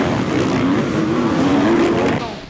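Honda motocross bikes race at the Belgian championship in Orp-le-Grand, their engines forming a loud, continuous, slightly rising whine that fades at the end.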